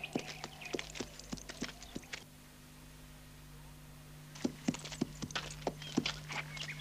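Horse hooves clip-clop in a western film, two runs of sharp, fairly close hoofbeats separated by a brief quiet gap, over a steady low hum.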